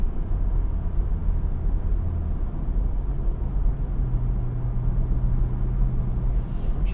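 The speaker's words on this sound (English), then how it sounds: "Obviously you can tell the difference in the exhaust sounds when you switch." From inside the cabin, a 2025 Ford F-150 Raptor with a 10-speed transmission drives along as its engine and exhaust make a steady, muffled low rumble, with a faint tonal drone toward the end and no talking.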